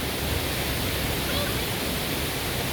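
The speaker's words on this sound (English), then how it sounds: "I'm going to go behind that waterfall." Waterfall tumbling over slippery rocks on a hiking trail, a dense, steady rushing roar heard up close and loud, with no break or voices.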